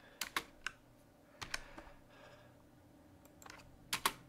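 Keys tapped on a computer keyboard in short irregular bursts of clicks, close and quiet, with pauses between clusters and no voices.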